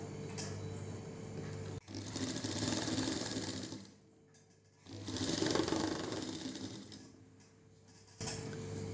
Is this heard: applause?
no